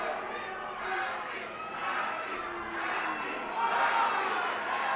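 Wrestling crowd at an indoor show in Albuquerque, a loose murmur of cheering and shouting voices that swells and fades, moderately distant, with no clear rhythm.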